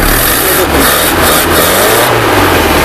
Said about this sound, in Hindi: बिल्कुल गाड़ी ठीक एक्सीलेटर ले रही है